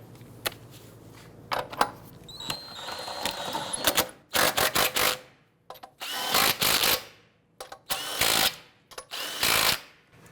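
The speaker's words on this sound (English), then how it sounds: "Once we get all of these started, we're going to go ahead and snug them down." A power tool snugs down lug nuts on a 2008-2013 Infiniti G37, sounding as repeated loud bursts of impact whirring and rattling that are separated by short pauses, close up with no voices.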